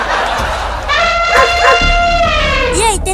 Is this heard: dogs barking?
yes